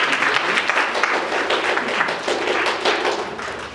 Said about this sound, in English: Can you give her a hand?